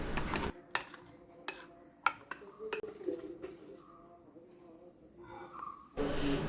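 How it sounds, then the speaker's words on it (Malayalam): Repeated metallic clinks and scrapes of a utensil stirring kochi koya mixture in a pan, irregular and close, with quiet gaps between strokes. "ഇതും കൂടി ഇട്ട് നമുക്ക് നന്നായിട്ടൊന്ന് മിക്സ് ചെയ്യാം."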